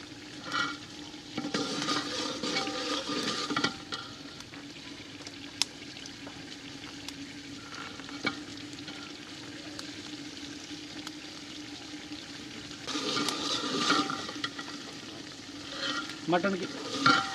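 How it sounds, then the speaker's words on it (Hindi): Mutton sizzles as it is fried and stirred in a pot for a degi-style bhuna, with a steady low sizzle under intermittent scraping bursts of stirring at the start and near the end. "मटन की भुनाई करते हुए मुझे 10 मिनट हो गए हैं।"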